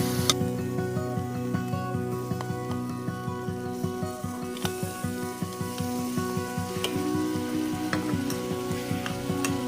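Boiled mutton frying in a pan gives a close, steady sizzle broken by regular ticking scrapes from stirring, with no voices.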